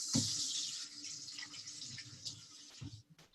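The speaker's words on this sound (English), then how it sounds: "I'm going to wash my hands quickly" Water runs from a kitchen tap as hands are washed, a soft continuous splashing stream close by with small shifts as the hands move under it.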